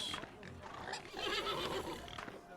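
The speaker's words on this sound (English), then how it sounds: "Horses." Horses whinny and neigh in a Wild West Dynasty town scene near a saloon and gun shop, a couple of moderately loud calls over steady ambient game noise with faint hoof clip-clop and some talk.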